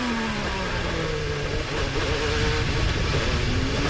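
Onboard sound of Simona de Silvestro's IndyCar racing at St. Petersburg, a loud, dense engine whine and wind roar with rising and falling pitch as the car accelerates, with no voices.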